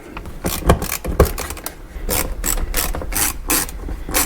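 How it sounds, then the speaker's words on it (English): Screws are driven back into an LED light housing from a Jeep with a ratcheting hand tool, giving close, repeated clicking ratchet bursts in uneven groups with brief pauses and no talking. "now we can go ahead and reinstall the screws"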